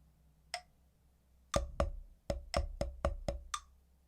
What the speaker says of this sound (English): So the bar without accents and without the 7-stroke roll would sound like this.